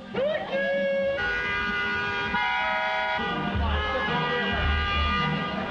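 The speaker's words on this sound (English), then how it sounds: "This is the sound of one street in the Flatiron District at 1 a.m." Street in New York's Flatiron District at 1 a.m. on a Monday: a wailing emergency siren with rising and shifting tones, mixed with horn toots and passing car noise, loud and close throughout.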